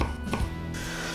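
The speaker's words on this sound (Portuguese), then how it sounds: "Agora, cebola e alho para o refogado. Corto bem miudinha." A kitchen knife chops onion and garlic very finely on a board for the sauté base of a Brazilian chicken-and-rice galinhada, with a few quick, close chopping knocks in a short burst.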